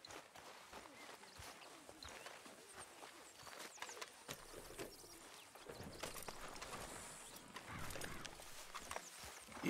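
Horse hooves clip-clop at a walking pace in Red Dead Redemption 2, a steady, fairly faint rhythm under game ambience and background noise, with no speech.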